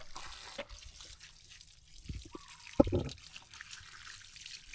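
Water running from a tap into a sink or tub during a baby's first bath, a steady soft trickle and splash with a brief louder gurgle partway through, no voices.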